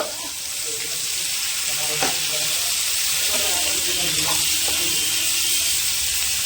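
Onions frying with a sprinkle of salt in a pan give off a steady, close sizzle and hiss, with a few faint clinks of stirring throughout.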